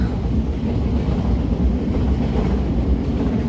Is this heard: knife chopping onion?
no